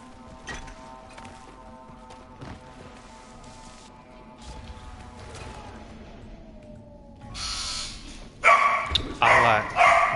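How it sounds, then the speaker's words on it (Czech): Several household dogs bark after a doorbell rings, loud sharp bursts toward the end over a steady bed of game music and sound effects. "tady čekají psi teď, protože někdo zazvonil"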